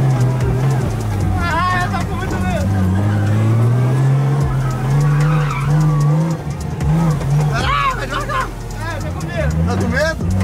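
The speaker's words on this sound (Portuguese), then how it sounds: "Até você conseguir fazer o zerinho, isso, vai virando." A drift car doing donuts roars loudly and nearby, its engine droning steadily while the tires squeal and skid in long wavering screeches, with people talking over it.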